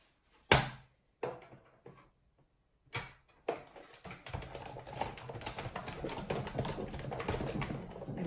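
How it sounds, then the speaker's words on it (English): A hand-cranked cutting machine gives a few loud separate clunks, then a continuous rapid ratcheting clatter as the crank turns, close and fairly noisy. "And you'll hear the cranking noise. It's a bit noisy, but that's normal."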